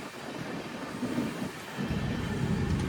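Steady rumbling roar of the Aranyak Express train rolling past nearby, a continuous low heavy rush with no voices.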